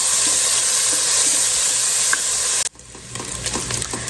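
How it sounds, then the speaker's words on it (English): Bacon frying in a pot for Southern-style black-eyed peas, giving a loud steady sizzle and hiss that drops abruptly near the end to a quieter crackle, with no voices. "we want to cook this bacon just until it's done, but not crispy"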